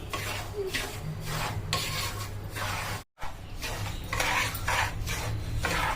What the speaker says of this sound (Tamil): ரவை நல்லா வாசனை வர அளவுக்கு நல்லா வறுக்கணும்.